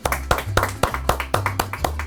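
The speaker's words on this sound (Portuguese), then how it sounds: "galera, vamos aplaudir." A few sharp, evenly spaced hand claps ring out alone, about four per second, each a crisp close slap over a low steady hum.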